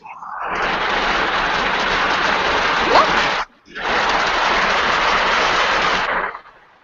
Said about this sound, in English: Yes, it's raining now.